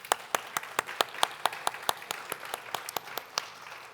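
A church congregation at a Sunday worship service claps for the mothers present, a steady run of quick, even claps that sound fairly distant and soft.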